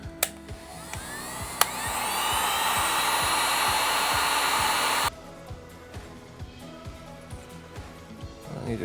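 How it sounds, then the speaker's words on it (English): A heat gun blows hot air as a steady, loud whooshing roar for about five seconds during the repair of a DJI Osmo 360 camera, then shuts off abruptly, leaving quieter background clicks and handling noise. "I need to cool it with that heat gun."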